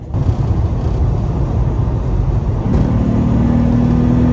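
A tuned 2006 Acura TL with a 5-speed automatic, engine revving hard toward redline in third gear, a loud, rising drone heard from inside the cabin.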